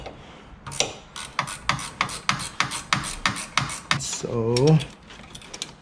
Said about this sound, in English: Let me loosen this more because it might need to be loosened more.